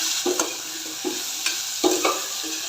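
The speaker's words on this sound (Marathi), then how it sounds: "हे वाटणसुद्धा एक ते दोन मिनटं आपल्याला तेलावर परतून घ्यायचं आहे जेणेकरून अद्रक लसणाचा कच्चा वास निघून जाईल" Ginger-garlic paste sautéed in oil for a pea and potato curry: a soft sizzle punctuated by several distinct spatula scrapes and stirs against the pan.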